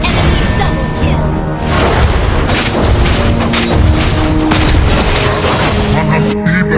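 Enemy turret destroyed in the mobile game Mobile Legends, a loud booming explosion layered over continuous battle effects and music, with game announcer voices talking over it.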